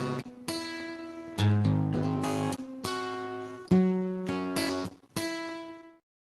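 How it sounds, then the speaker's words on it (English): Musical passage of sustained harmonic notes distorted by half-wave rectification, the negative half of the waveform cut to zero, giving a buzzy, harsh tone across several loud phrases that end in silence. "So a different way of distorting our signal sounds like this."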